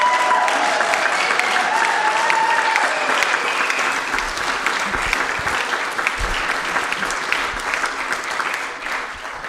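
Congregation applauding at a year-end Dharma service, sustained dense clapping from a gathered crowd that holds steady for several seconds before tapering slightly toward the end.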